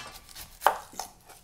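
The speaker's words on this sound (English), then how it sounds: "So while we're chopping and we're going to make..." A knife chops onion and tomato on a cutting board at an outdoor farmers market cooking demonstration, with a few distinct, close thuds spaced apart over a quiet background.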